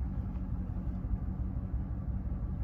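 A warmed-up 2020 Dodge Challenger R/T with its mid muffler deleted gives a loud, steady low-pitched exhaust rumble throughout, heard from inside the car with no voices.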